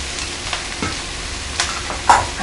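A small chopped onion hits smoking-hot extra virgin olive oil in a pan, giving a loud, continuous sizzle marked by several brief spatters and spoon scrapes, with no talking.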